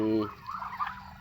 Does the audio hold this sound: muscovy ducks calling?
yes